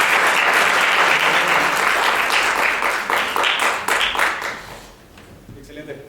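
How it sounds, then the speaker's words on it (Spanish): Audience applause at a parapsychology conference talk, a dense steady wash of many hands clapping that holds loud for about four seconds and then thins out and fades near the end. "Un aplauso nuevamente, por favor."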